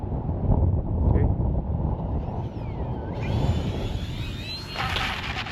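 Strong wind buffets the microphone during a windy radio-controlled aircraft flight, a continuous rough roar with gusts swelling and easing and a faint higher whine from the aircraft.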